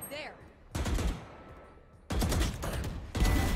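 Bursts of rapid automatic gunfire in the Valorant shooter game: a short volley, a pause, then a longer sustained burst and another close, loud salvo near the end.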